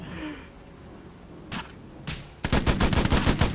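Aboard the H6K4 gunship in the War Thunder video game, a couple of isolated single shots ring out, then a rapid burst of machine-gun fire rattles loudly and close for about a second.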